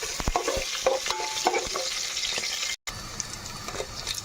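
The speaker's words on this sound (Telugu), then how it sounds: "ఒకసారి కలుపుకోవాలండి." Mustard seeds, cumin, dried red chillies, crushed garlic and green chillies are stirred in a hot oil tempering pan for sambar rice, with steady sizzling and frying under several scraping spoon strokes, then a short gap before the sizzle resumes.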